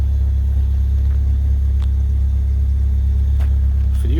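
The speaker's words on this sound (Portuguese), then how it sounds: "Escape novo instalado aí, mas ainda tem um roquinho esportivo" Fiat Palio idling with a newly installed exhaust muffler, a steady low sporty rumble close to the tailpipe, constant and loud with no speech.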